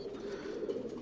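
A three-year-old male tumbler pigeon coos softly and continuously at close range in a loft, a low throaty murmur with no talk.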